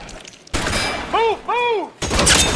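Gunfire in the crime game L.A. Noire: loud, sharp blasts open and close the clip around a middle stretch of rising-and-falling whistling tones, all close and forceful with no talk over it.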